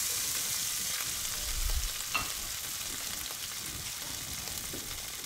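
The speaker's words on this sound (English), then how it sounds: "Listen to that sizzle." Steady, close sizzling of onions frying in a pan, a continuous crackling hiss with a brief soft clatter partway through.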